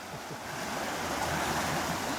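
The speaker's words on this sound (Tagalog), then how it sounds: "Grabe ang baha oh." A flooded creek and river rushing in a steady, broad roar of turbulent water, close and continuous without a break.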